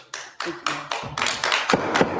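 Scattered handclaps from a few people at a city council meeting, sharp separate claps that quicken and thicken into a brief, modest burst of applause in a quiet chamber.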